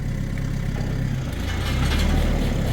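A tractor engine running during a regeneration cycle beside an old New Holland Hayliner square baler, a steady loud mechanical drone with rising intensity near the end, heard alone with no talk.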